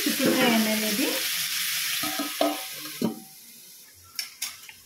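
Broad beans with salt being stirred in a pan over heat, a hissing fry at first that settles into scattered spoon scrapes and knocks against the pan, close by, with faint voice-like sounds early on.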